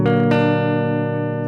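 Barred guitar chord with the pinky added, strummed twice in quick succession near the start and then left ringing alone, slowly fading with a clear sustained tone.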